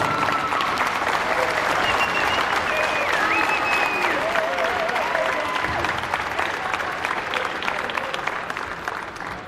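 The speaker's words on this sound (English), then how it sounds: "Would you please honor Ken Piankowski with a round of applause?" An audience in a gym at a girls' all-star basketball game ceremony gives sustained, loud applause with scattered cheers and whistles, the clapping fading slightly near the end.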